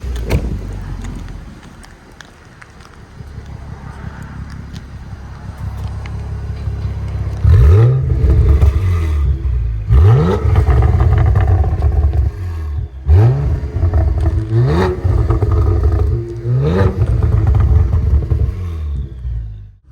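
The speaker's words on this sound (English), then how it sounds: "I'm gonna insert the exhaust note right here." A Cadillac Blackwing's exhaust roars close and loud through a series of sharp revs that rise and fall, a steady rumbling idle between the blips and no voices.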